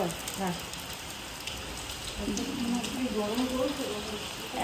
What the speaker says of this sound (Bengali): এত বৃষ্টি হচ্ছে, গরমের কোনো মানে শেষ নেই।